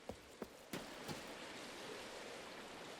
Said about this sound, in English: okay, you hear the water. Still hear the water.